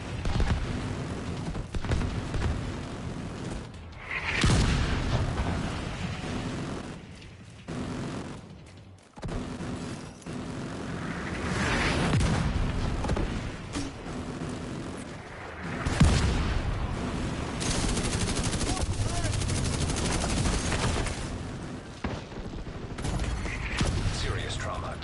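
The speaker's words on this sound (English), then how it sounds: "I'm seeing mortars on the roof, and you've got a lot of hostiles ahead. But it looks like the smoke's working. The autocannon seems to be firing blind." In The Division 2, autocannon and mortar fire pound away through a dense, continuous battle din, with heavy booms and mechanical clatter rolling over each other throughout.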